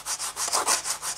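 Pastel scrapes back and forth across textured paper in about seven quick, even, raspy strokes, heard up close with nothing else present.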